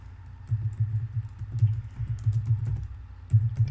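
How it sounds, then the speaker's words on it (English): Someone types on a computer keyboard, producing quick clusters of soft key clicks in an uneven rhythm, close and moderately loud in a quiet room. "That's me typing, if you can hear it."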